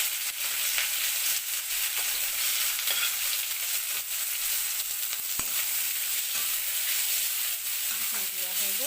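Boiled lai saag greens stir-fry in a pan with a steady, close sizzling hiss and occasional scrapes of stirring, running continuously without speech.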